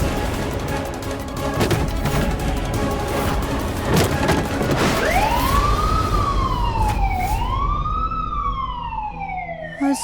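A fire engine siren wails, rising and falling in long sweeps, growing louder over a dense rumble of crackling and booming noise.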